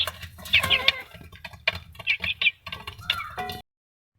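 Chickens on a farm where a broody hen sits on fifteen eggs, several close, soft clucks and short calls in uneven bursts, then sudden silence at the end.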